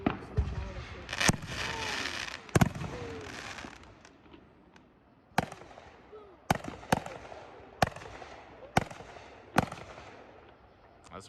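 Big fireworks burst repeatedly at a vacation display, opening with a dense crackling barrage and then settling into a steady run of sharp, separate booms spaced about a second apart. Voices murmur faintly between the blasts.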